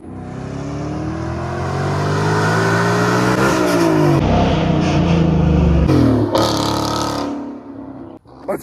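A manual Mustang 5.0 with an MBRP exhaust accelerates hard, its loud close engine rising in pitch through the gears with a brief drop at each shift, then easing off near the end.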